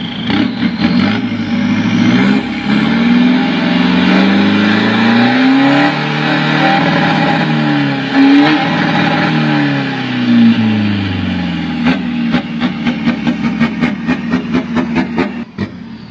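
Chevrolet pickup, 2018 model, remapped stage 1 with a turbo, revving hard in long rising and falling sweeps, loud and close. It ends in a rapid crackling burble as the throttle drops, with no talking.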